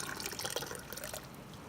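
Fig syrup drips and trickles through a damp filtering cloth, making a soft, steady, close liquid patter with small drips throughout.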